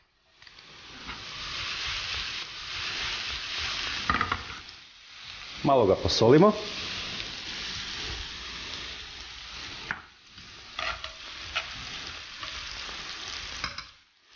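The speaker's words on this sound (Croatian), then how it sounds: "U tavu na ugrijano maslinovo ulje dodamo sjeckani luk." Chopped onion frying in heated olive oil in a pan, a steady close sizzle with a brief burst of stirring in the middle, and a short spoken line over it.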